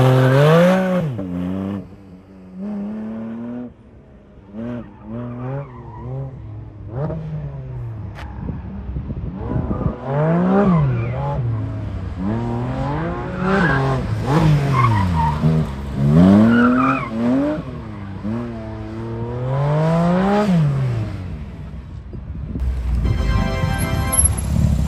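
A Porsche drifts around a circuit with traction control switched off at a Porsche Experience Centre in Shanghai, its tyres squealing in long rising and falling howls alongside engine revs, continuous and close for nearly the whole stretch.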